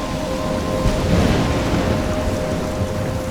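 Thunderstorm in the video game Life Is Strange: steady, dense rain hiss with low rumbling thunder rolling underneath, loud and continuous throughout with no voices.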